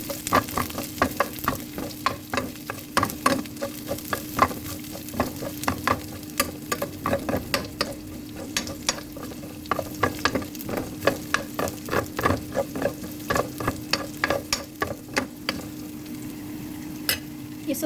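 Onions sauté in a little oil in a pan for pork loin, a continuous close sizzle broken by regular scraping and clinking strokes of a spatula against the pan, with no talk.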